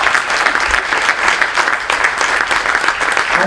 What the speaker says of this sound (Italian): L'applauso che vi chiedo